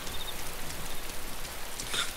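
Rain in the DayZ video game, a steady, even hiss of drops falling on surfaces all around, continuous and moderately loud with no voices.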